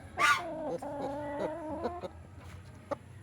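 A Rhode Island Red rooster gives a short loud call, then a run of low, throaty clucks that trail off into scattered quieter clucks.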